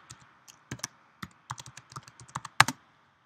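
Close, quiet keystrokes on a computer keyboard while entering an expression into Microsoft Word's equation editor, irregular single taps and short clusters ending in a louder quick burst, with no talking.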